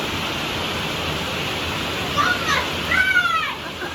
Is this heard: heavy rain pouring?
yes